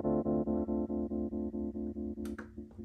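A sustained electric piano chord from a Rhodes MK8 pulses with a choppy on-off square-wave tremolo, about five beats per second, hard and abrupt, ending in a brief bright click.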